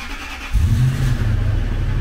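A car engine catches and revs up abruptly after a quiet moment, then holds a loud, close, steady growl for the rest of the moment.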